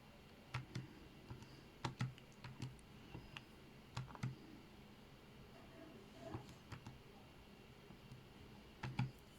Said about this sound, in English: I'm typing in this number here